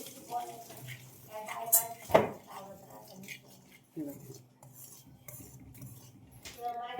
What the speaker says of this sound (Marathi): आता हे सगळं व्यवस्थित मिक्स करून घेते